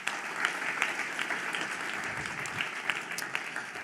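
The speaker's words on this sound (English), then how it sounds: "Joachim and his team deserve a round of applause as well." Conference audience at a harm reduction gathering in Bogotá breaks into applause, a dense, even patter of many hands at moderate distance, fairly quiet and sustained without pause.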